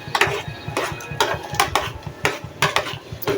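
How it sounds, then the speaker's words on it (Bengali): Spoon stirring garlic coffee tea in a cup, rapid rhythmic clinks and scrapes against the sides, close and moderately loud, repeating steadily with no voice. "তো এটা একটু চামচ দিয়ে দেখো নেড়ে নিচ্ছি।"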